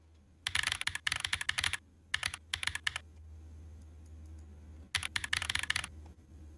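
Keyboard typing set to the "Tactical" sound theme in the video game Hydroneer: quick, crisp clattering keystroke bursts in three runs separated by short pauses, close and clear over a low steady hum.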